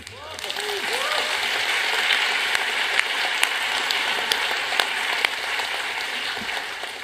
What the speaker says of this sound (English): So a round of applause for the largest middle-class population in China.